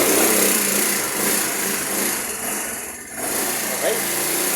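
A SYM Radar 125 motorcycle engine idling just after starting, a steady high-pitched buzzing drone that holds fairly loud and close throughout, dipping briefly before settling back.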